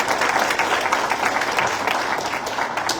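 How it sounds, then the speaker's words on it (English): An audience at a school event claps steadily for a panel of students, a brief, even burst of applause throughout. "Please give them some applause."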